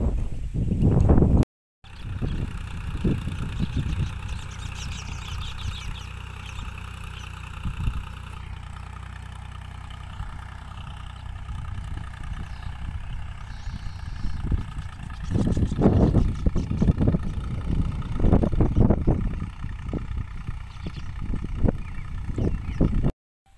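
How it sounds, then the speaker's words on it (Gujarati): A tractor engine runs in a village cotton field, a close, throbbing mechanical chug that holds steady, dips briefly, then grows louder and rougher in bursts. "ને બાપુરી એ ટ્રેક્ટર હાકે છે"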